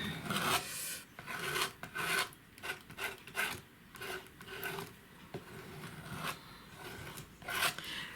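A tool scrapes through paint on an old canvas painting in a studio, giving a string of close, rasping strokes in an uneven rhythm, each a short gritty rub, with no talking.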